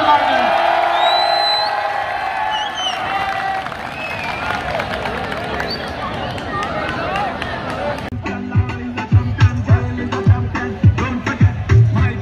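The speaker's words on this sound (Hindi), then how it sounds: "भरपूर क्लैपिंग करके इत्तला करें।" A crowd at a spring-season college fair at Govt Shalimar College, Lahore, claps and cheers. Someone talks over a murmuring crowd at first, then sharp, sustained applause with whoops takes over near the end.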